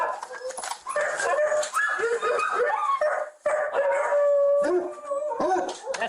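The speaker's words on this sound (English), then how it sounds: "It's a lot of dogs." Many caged dogs howling and barking together, loud and close, long overlapping howls broken by barks and whimpers that carry on without pause.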